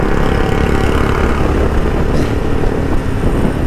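Bajaj Dominar 400cc and other motorcycles being ridden, a loud continuous engine drone with steady low rumble throughout, no voices.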